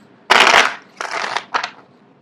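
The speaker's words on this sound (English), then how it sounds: "I don't know why people like to see the card shuffle live" Tarot cards are shuffled close up in three quick bursts of riffling and slapping, a long one, then a medium one and a short one, with no talk.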